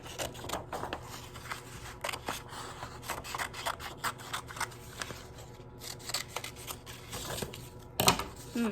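Scissors snipping through paper while cutting out a small shape for a fox collage, a steady run of close, soft crisp cuts and rustles with a sharper crunch near the end.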